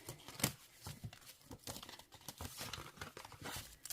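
Crinkling and light tearing of a paper card envelope being handled up close, a sharp rustle near the start followed by steady soft crumpling and patting, with no talk.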